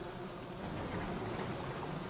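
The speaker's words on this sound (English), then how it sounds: "Repentant devil is listening to the bees." Dense, steady insect-like buzzing of singing bees in the video game Sunless Skies, a continuous droning hum with no talk over it.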